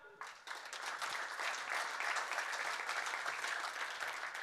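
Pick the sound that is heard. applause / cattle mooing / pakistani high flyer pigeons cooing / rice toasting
applause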